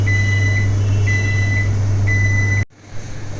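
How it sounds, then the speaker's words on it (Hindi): A microwave oven heating stuffed cheesy eggs gives a steady loud hum with three evenly spaced short beeps, then the hum cuts off abruptly into quieter room noise. "हम उसे माइक्रोवेव में रख देंगे 10 से 15 सेकेंड के लिए"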